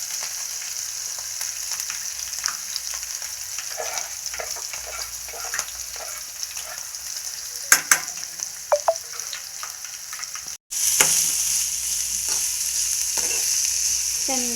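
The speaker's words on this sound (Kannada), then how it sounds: "ಸಾಸಿವೆ ಚಟಪಟ ಅಂದಮೇಲೆ ಉಳ್ಳಾಗಡ್ಡಿ, ಮೆಣಸಿನ್ಕಾಯಿ ಹಾಕೋಬೇಕು ನೋಡ್ರಿ." Onion and green chilies fry in oil with popping mustard seeds for Karnataka-style churumuri, a steady close hiss with scattered sharp pops and crackles, a brief stir, then a louder sizzle swelling again.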